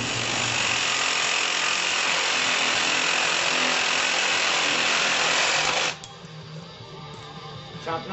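Hot rod shifter box parts being cut with a power tool, a steady loud grinding rasp for about six seconds before the cut ends and the tool winds down to quieter clatter.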